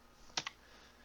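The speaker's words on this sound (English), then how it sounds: "To insert manual stitches, we press the Insert key on the keyboard." Two quick clicks sound as the Insert key is pressed on a computer keyboard, close and soft against a quiet background.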